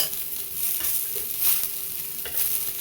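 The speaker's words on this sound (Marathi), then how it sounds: "तेल टाकलं ना भाजती चांगली मिरची तेल टाकून घेऊ थोडं तेल टाकलं ना तेलामुळे खमंग भाजते" Green chillies roast in a film of hot oil in a pan, giving a steady close sizzle with soft scraping stirs throughout and no voices.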